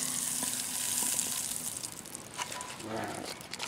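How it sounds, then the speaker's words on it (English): Butter sizzles in a hot pan while cornbread is being made, a soft, steady frying hiss under a person talking quietly. "Hear that sizzle."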